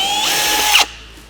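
A power drill bores a 6.5 millimeter hole through an aluminum door panel for a Polaris RZR Pro R 4, a loud steady whine that cuts off abruptly near the end.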